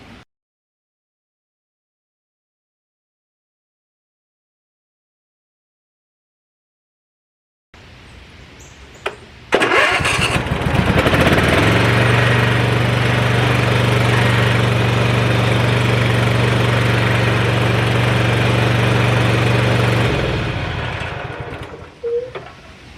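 Husqvarna zero-turn hydro-drive mower engine starting after several seconds of silence, then running at a steady loud drone for about ten seconds before winding down, followed by a few brief clunks.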